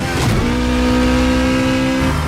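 A Mitsubishi Evo and a Chevrolet Camaro race side by side in a film scene, their engines holding a loud, steady droning tone that rises slightly before settling into a sustained high-revving roar, with no speech.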